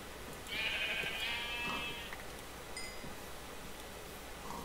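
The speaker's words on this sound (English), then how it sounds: "There's a sheep up here." Sheep in modded Minecraft give a clear bleat, then a second, shorter one, close and fairly loud over a soft game ambience.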